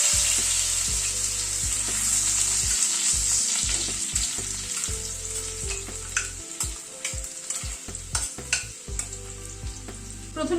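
Small pieces of medium-sized potato sizzle and fry in hot oil and ghee, a dense steady crackle with occasional stirring clanks and scrapes of a utensil in the pan, no voices.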